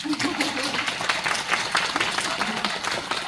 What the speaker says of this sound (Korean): 그래서 한번 박수 한번 쳐주실 수 있나요?